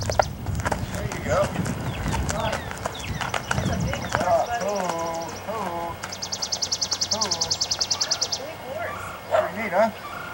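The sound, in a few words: horse walking, hooves clip-clopping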